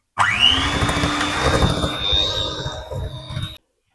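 An electric hand mixer whirs steadily and loudly as it beats butter with added salt for Christmas cookie dough, its motor holding a high whine for a few seconds before cutting off abruptly.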